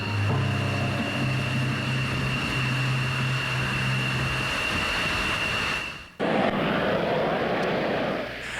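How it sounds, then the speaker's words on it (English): Military jets of the Saudi Arabian Air Force, flying during the opening of Operation Desert Storm in January 1991, roar loudly as a steady, broad engine rumble. The sound cuts off sharply near the end, then resumes. "These are some of the planes that bombed Iraq."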